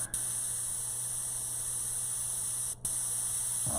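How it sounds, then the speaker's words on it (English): Candy apple red spray paint hisses steadily and continuously from an airbrush or can, close up and even in level, with two brief pauses, over a low electrical hum. "So this is the candy apple red that I'm spraying right now, the lighter red."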